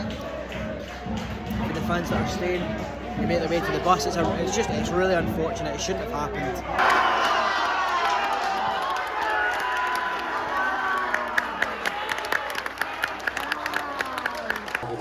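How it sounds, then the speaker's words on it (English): Football supporters at an away match in Coleraine applaud departing away fans, a broad crowd of clapping and cheering under close commentary talk, with sharper individual claps standing out near the end. "They quite rightly get a round of applause for the fans that are staying."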